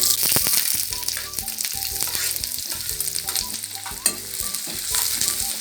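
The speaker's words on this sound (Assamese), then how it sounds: "তেলখিনি গৰম হোৱাত মই পিঁয়াজখিনি দি দিছোঁ।" Onions frying in hot oil in a kadai for a dried fish chutney, a loud, busy crackle and sizzle with frequent stirring scrapes throughout, no voices.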